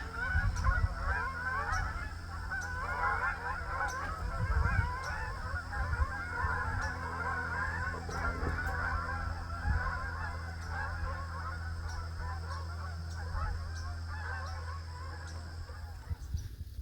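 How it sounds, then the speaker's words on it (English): Hundreds of Canada geese honk continuously from a distance near a marble rock hiking trail in Gananoque, Ontario, a dense overlapping chorus over steady low outdoor rumble. "there's hundreds of Canada geese in there"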